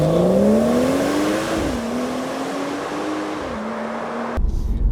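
A BMW 340i with the B58 engine and ZF 8-speed automatic accelerates hard, its rising engine note climbing through a gear change and holding steady, loud and close, before cutting off abruptly near the end.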